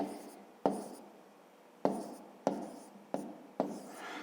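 Pen or chalk writing numbers by hand, a series of about six sharp taps each followed by a short scratching stroke, quiet and close with pauses between.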